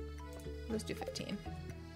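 Watering crops with a watering can in the Stardew Valley video game: soft splashing, dripping water sounds over the game's background music, with a voice talking alongside.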